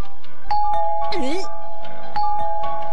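A cartoon doorbell in a Hindi-dubbed Shinchan episode rings repeatedly with bright ding-dong chimes, and a voice briefly cuts in over the ringing partway through.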